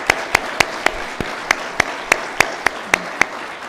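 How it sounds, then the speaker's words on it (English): A single person claps slowly and steadily at an awards celebration, about a dozen sharp, evenly spaced claps standing out clearly against quiet room noise. "We'll give you a round of applause."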